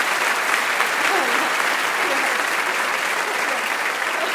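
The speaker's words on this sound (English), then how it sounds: "Yes, please clap for her." Steady, dense audience applause for a choir teacher at a high school spring choir festival, loud and continuous throughout with no break.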